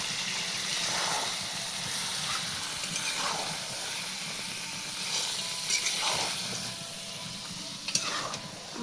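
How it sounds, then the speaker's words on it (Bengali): A big fish fries in hot oil in a village kitchen, giving a steady close sizzle and hiss with occasional stirring sounds throughout. "তো বন্ধুরা আমি এখন মাছ দিয়ে দিচ্ছি"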